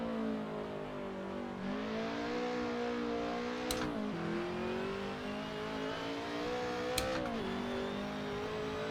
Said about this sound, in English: Redlining a lot, but trying to get the most out of this BRM